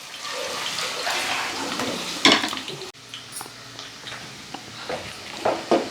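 Sliced onions fry in an oily pan until browning, giving a steady hiss and sizzle broken by sharp clatters of a spoon stirring against the metal.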